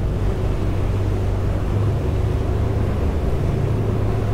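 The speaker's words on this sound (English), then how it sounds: "those big turbo diesels winding up behind us" A steady, loud low-pitched drone of turbo diesel engines on a J Craft Torpedo RS boat, with a constant hum and rushing wind and water noise, continuous throughout without pause.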